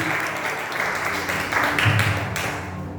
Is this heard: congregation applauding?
yes